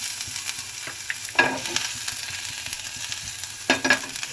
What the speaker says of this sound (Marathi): तेलामध्ये ठेचलेली लसूण टाकू